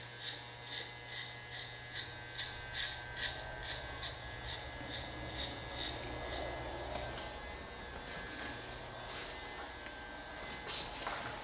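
An electric hair clipper with a 1/8 blade buzzes steadily while fading hair, its motor hum continuous and close, with a series of rhythmic soft snips and brushes through the first half.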